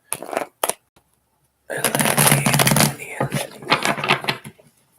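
A deck of tarot cards being shuffled by hand, two quick riffles at first, then a longer, dense, crackling shuffle that tapers off in short bursts, close and clear.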